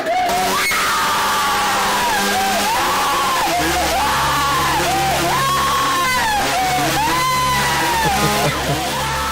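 A woman's loud, sustained screams from a horror film ring out in repeated wavering cries over a low droning score, filling the whole stretch with steady intensity and no talk.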